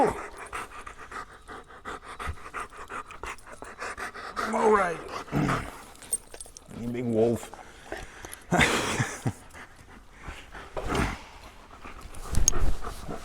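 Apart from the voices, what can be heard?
dog panting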